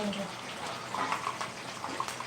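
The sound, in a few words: washing fish with running water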